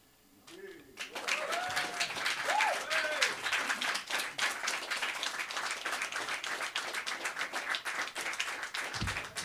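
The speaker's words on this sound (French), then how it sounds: "Toi, tu les entends applaudir, là?" A crowd at a slam poetry competition in Antibes breaks into applause, sustained, dense clapping that swells within a second and holds steady to the end, with a brief voice at the very start.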